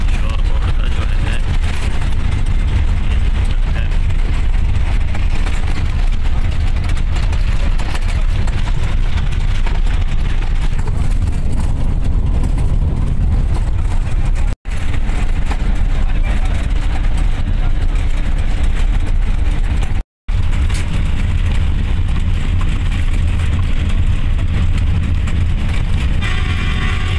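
Large bus bound for Shorkot, its heavy engine rumbling low and steady throughout from inside the vehicle, with a constant loud drone and faint background voices.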